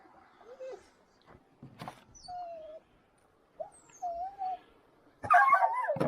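A hunting dog whimpers and yips in short, high whines separated by pauses, followed by a louder burst of excited barking at the end, outdoors in snow.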